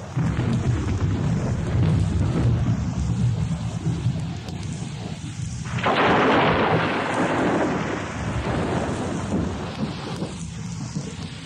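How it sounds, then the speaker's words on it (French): Thunder rumbles over a mountain amid steady heavy rain, a continuous low roar with a stronger rolling swell midway, loud and enveloping, with no voices. "il y eut des tonnerres, des éclairs et une épaisse nuée sur la montagne"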